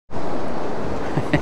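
Steady, loud wind roars across a fishing pier, buffeting the microphone as a continuous broadband rush with a few small bumps near the end and no voices.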